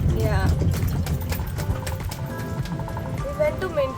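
Horses at a resort horse range in the Maldives, with hoof clip-clops and a possible whinny heard close by, mixed with people talking over them.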